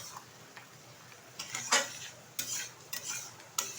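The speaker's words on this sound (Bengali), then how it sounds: "দিয়ে দিচ্ছি শাহি পনির মশলা। ভালোভাবে নেড়ে চেড়ে নিচ্ছি।" Paneer pieces with shahi paneer masala are stirred in a pan, a series of sharp metallic scrapes and clinks from the spoon against the pan over a faint background hiss, with no voices.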